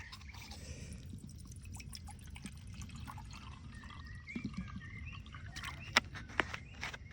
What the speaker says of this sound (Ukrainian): Сюди наливаємо водички вроді.